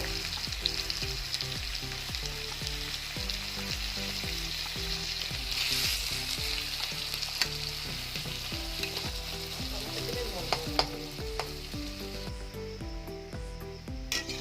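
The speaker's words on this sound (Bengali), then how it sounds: "আলুটা ভাজা ভাজা হয়ে এসছে এবার আমি ডিমটা দিয়ে দেবো" Potatoes, onion and green chillies fry in a pan for an egg bhujia, giving a continuous close sizzle with repeated spatula scraping and stirring throughout.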